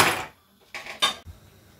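A pot lid is set down over a pot of boiling pumpkin leaves with sliced onions, giving a quick pair of metallic clanks and rattles, close and fairly loud, after a short bit of clatter.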